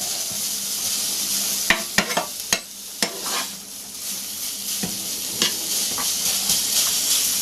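Minced meat browning in a hot pan for cottage pie, a steady close sizzle and hiss with a few sharp clinks and scrapes of stirring scattered through.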